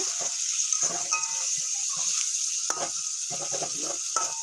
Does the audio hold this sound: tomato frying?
yes